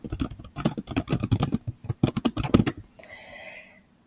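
Rapid typing on a computer keyboard while filling in a Google Form, with bursts of close, crisp key taps, a brief pause midway, then a softer tail fading to quiet.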